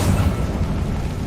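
A Confringo blasting spell bursts in Hogwarts Legacy, a loud, dense boom with a rumbling low-end roar that fills the short moment without any speech.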